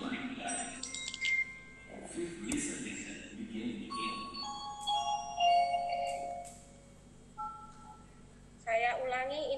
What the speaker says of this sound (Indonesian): sebentar baru ada suara bel ini.